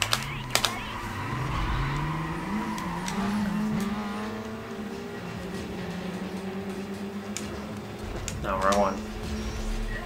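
A car engine in Need For Speed: Carbon revs and accelerates with rising, shifting whines, floored and steady, while people talk over it and keys click near the start.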